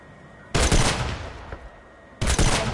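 Two loud, close bursts of automatic gun fire in Fortnite, separated by a short lull with a single faint shot between them, no talking over the shooting.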